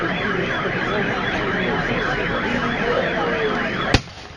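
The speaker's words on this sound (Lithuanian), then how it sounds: "Signalas prancūzų į ataką." A French attack signal sounds at a battle reenactment, a steady wavering tone holding throughout and ending in a sharp crack near the close.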